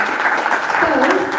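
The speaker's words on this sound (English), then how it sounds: "Can you give yourselves a round of applause?" Audience at a township community dialogue applauding together, a steady dense wash of clapping that holds evenly throughout with voices mixed in.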